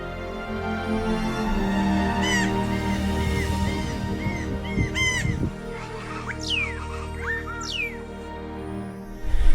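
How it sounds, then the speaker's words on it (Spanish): Brown jays (papanes) calling along a forest trail near Papantla, Veracruz: a noisy flock gives repeated loud, harsh squawking and piercing cries, some near and some farther off, with a steady background of insect and bird chatter throughout. "en el sendero podemos escuchar muchos papanes"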